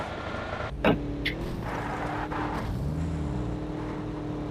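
A car nearby, with a steady engine drone and a faint whirring, likely a power window, plus a few sharp clicks and thumps; no one talks.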